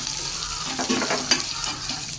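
Curry leaves drop into hot oil with urad dal, cumin and mustard seeds, giving a close, steady sizzle and crackle with a few sharp spits and light stirring, no voices.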